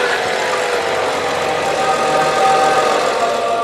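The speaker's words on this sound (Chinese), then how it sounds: "当发动机再一次启动起来的那一刻" A BMW engine, just reassembled in a repair workshop, runs steadily and loudly with a continuous mechanical drone and slight knocking.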